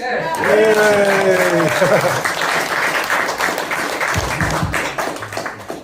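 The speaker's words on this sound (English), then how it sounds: "we want to hear the round of applause for Ken Michaels" Audience applause at a Beatles fan convention panel in New Jersey, a dense wash of many hands clapping that follows a loud announcing voice and fades slightly near the end, with crowd noise mixed in.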